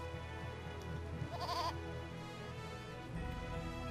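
A goat in the video game Eternal Sonata, blocking a bridge, lets out a single short, wavering bleat, mid-distance over a steady musical background.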